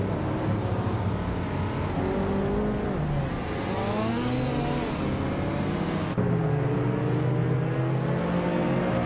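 Race car engines rev and whine in a racing video game, several overlapping rising and falling tones as cars accelerate off the line, steady and loud throughout.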